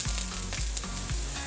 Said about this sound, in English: Now to the oil, I'm going to go in with some minced ginger and garlic.